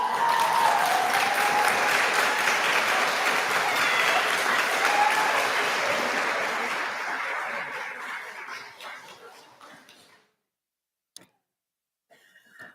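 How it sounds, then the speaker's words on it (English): A crowd at a nursing pinning ceremony claps and cheers for an award winner, dense sustained applause that fades out over several seconds into near silence, with a few stray claps at the end. "When everyone was cheering just now"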